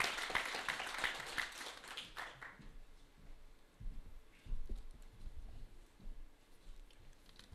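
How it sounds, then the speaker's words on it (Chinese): A press-conference audience in Beijing applauds a group president taking the stage: a burst of scattered clapping for about two seconds, then fading into quiet room murmur and light shuffling. "来，掌声有请。"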